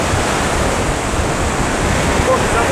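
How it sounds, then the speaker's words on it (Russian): Stormy sea surf pounding the beach at Vityazevo near Anapa, a steady loud roar of breaking waves mixed with gusty wind buffeting the microphone, with no voices. "Мы пойдем поснимаем волны, море."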